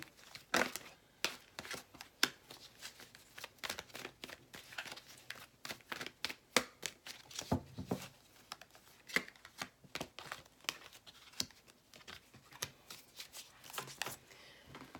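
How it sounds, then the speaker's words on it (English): Tarot cards being shuffled and pulled by hand for a love reading, a long run of quick riffling flutters and soft slaps, close and fairly quiet. "I'm just going to pull my cards here."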